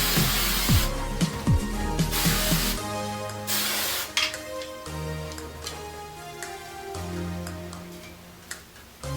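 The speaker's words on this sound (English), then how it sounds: "I'm just going to spray this with some hairspray." Two bursts of hairspray hiss over freshly curled hair, one short and one longer, with faint clicks and rustling in between.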